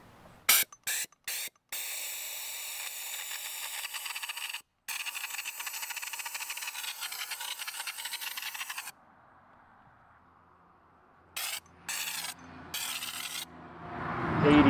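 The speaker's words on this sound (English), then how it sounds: "first time spraying fluid film. I'm gonna try it on this bumper at 40 psi." Fluid Film rust protection being sprayed onto a vehicle bumper at 40 to 60 psi, heard as repeated hissing bursts, some short and one long sustained blast, with quiet gaps and a faint hum between.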